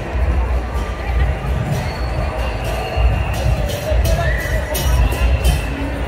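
Dense crowd chatter at an outdoor freedom rally, a loud continuous babble of many voices with scattered louder shouts, people talking close by throughout.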